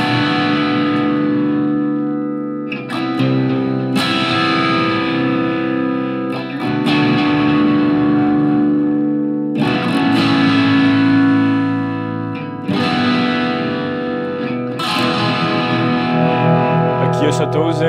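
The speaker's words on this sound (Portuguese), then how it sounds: "Aqui eu só estou usando um delay" A distorted modified Fender Stratocaster plays phrases with sustained notes trailing into echoes from a DD7 delay pedal, loud and close, with pauses between phrases.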